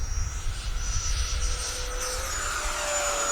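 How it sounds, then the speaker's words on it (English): A steady, hollow jet whoosh of a ducted fan on a Freewing Yak-130 RC jet, with a continuous whine overhead and a low rumble beneath, holding fairly even throughout. "This one's a lot more of a hollow whoosh"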